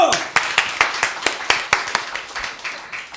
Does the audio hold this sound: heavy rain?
no